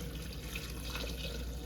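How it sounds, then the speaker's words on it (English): Warm water streams from a container onto coconut in a kitchen, a continuous soft splashing pour heard close up with no talking. "I have some warm water here, and what I'm going to do is I'm going to pour"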